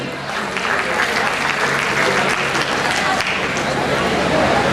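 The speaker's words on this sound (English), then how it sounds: "A huge round of applause for them." Audience at a college techno-cultural festival gives a sustained round of applause, loud, dense clapping from a large crowd continuing steadily throughout.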